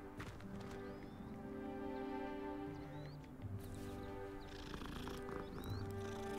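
Cats purr softly in the video game Hogwarts Legacy, a low continuous rumble under faint background game music and ambience.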